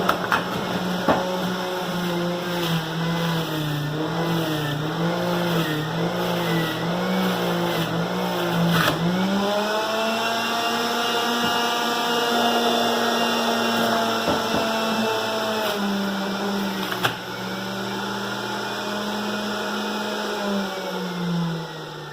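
A juicer grinds a whole organic lemon, rind and all, for green juice, a loud steady motor whine with wavering harmonic pitch that dips and rises again as the load shifts, running continuously throughout.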